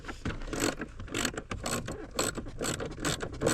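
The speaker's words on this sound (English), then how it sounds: "So we're going clockwise with bolts now. It's obviously the same deep 10mm." Close ratchet clicking as a deep 10mm socket tightens bolts on a kick panel in a Mini footwell, a fast continuous run of mechanical clicks with rhythmic pulses and no speech.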